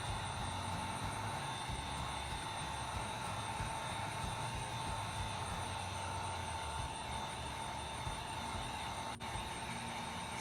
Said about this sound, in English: Sometimes you really have to hold that heat gun on the spot.